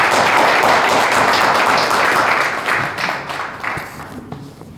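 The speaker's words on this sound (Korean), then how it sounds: "큰 박수로 보내주십시오." Audience at a Seoul real estate forum lecture applauds loudly and steadily, a dense clapping wash that gradually thins and fades over the last second or so, with no talking.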